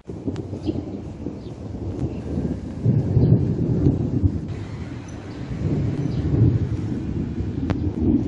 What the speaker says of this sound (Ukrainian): Он яке находи чорне і гримить